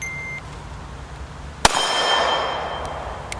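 A single sharp metallic clang rings out as a pistol shot strikes an 8-inch steel gong about 12 yards away, the ring decaying after the hit.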